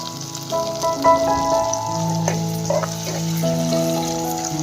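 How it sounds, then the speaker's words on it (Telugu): Green chillies, curry leaves, dried red chillies and garlic sizzle loudly in hot oil, a steady close crackle with bright popping spatters throughout. "మనం ఇప్పుడు పచ్చిమిర్చి యాడ్ చేద్దాం చూడండి అలాగే కరివేపాకు తర్వాత ఎండు మిరపకాయలు తర్వాత ఎల్లుల్లిపాయలు"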